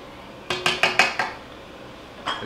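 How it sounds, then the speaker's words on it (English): A spoon stirring beef pho soup in a metal pot, five quick close clinks in a row, then a short gap and one more knock. "Let's give that a stir."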